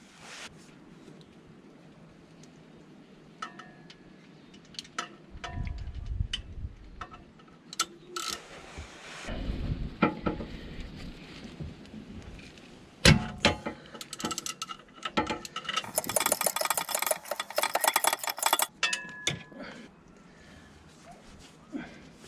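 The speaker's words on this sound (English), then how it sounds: "I've got room to swing the ratchet" Ratchet fitted with a socket and long extension turning in the engine bay of a BMW E46, giving bursts of close, rapid clicking and metallic ratcheting with scrapes and clunks between strokes.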